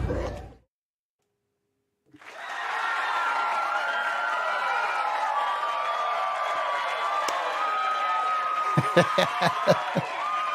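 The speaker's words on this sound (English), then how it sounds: "Look at that crowd cheering." A fake studio crowd cheers and applauds: a dense, steady roar rises after a short silence and holds to the end, with a few sharp claps and whoops standing out near the close.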